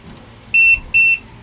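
An Allan Timer 1222 coin timer for a vendo carwash powers up with two short, bright electronic beeps in quick succession, loud and close, with a low hum underneath.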